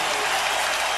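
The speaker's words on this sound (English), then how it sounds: "Jamal Tinsley is why everybody's clapping right now." Steady, dense applause from a large basketball arena crowd at a 2004 Pistons vs Pacers playoff game fills the space, a continuous wash of clapping without pause.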